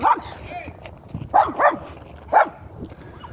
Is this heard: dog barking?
yes